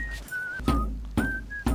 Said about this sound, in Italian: zitto, zitto, che sta fischiettando